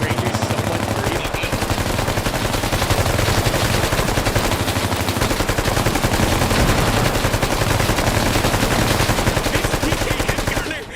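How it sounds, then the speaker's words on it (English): A PKM machine gun in the video game Bellum fires continuously in long, dense, loud automatic bursts, with overlapping gunfire and battle noise throughout. "This PKM gunner is going crazy."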